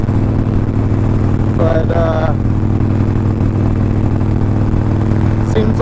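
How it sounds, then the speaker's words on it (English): A motorcycle with a Stage 1 setup and a Vance and Hines FP3 fuel pack cruises at about 35 to 40 mph, a loud steady engine drone mixed with wind rush, with a brief spoken word partway through. "seems like this bike loves to run above 35, 40 miles an hour"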